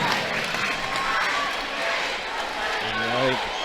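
A home basketball crowd at a high school sectional game roars and cheers during a timeout, a dense, steady crowd noise heard from across the gym, with a voice briefly audible near the end.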